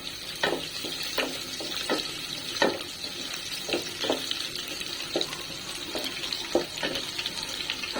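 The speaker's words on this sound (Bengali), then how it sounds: "গরম হয়ে গেছে এর ভিতরে আমি জিরে বাগার দিয়ে দিব তারপর রসুনটা দিব তারপর পেঁয়াজ দিব দিয়ে এখন আমি এটাকে নাড়তে থাকি" Cumin seeds, garlic and onion frying in hot oil in a pan and being stirred, with a steady sizzle under repeated scraping clicks of the spoon against the pan.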